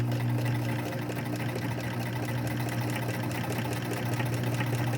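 A sewing machine runs steadily while stitching close to the edge of a cloth face mask. The motor hum is even and continuous, fairly loud and close, with no pauses and no talking.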